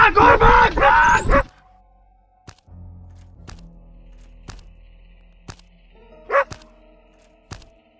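A dog in the horror game Endless Nightmare gives a loud, harsh burst of barking and yelping at the start, followed by scattered sharp thuds and clicks and one more short bark over a low hum.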